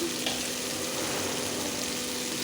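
Tomatoes fry with ginger garlic paste in a pan, giving a steady, dense sizzle that holds at an even level from start to finish, close and with no talking.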